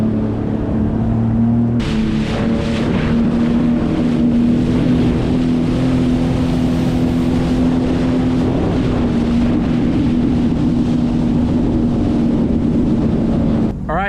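A 2026 Sea-Doo Explorer Pro personal watercraft cruising on the cold Atlantic Ocean off Newfoundland during engine break-in, its steady engine drone running loud and continuous under heavy wind buffeting on the microphone.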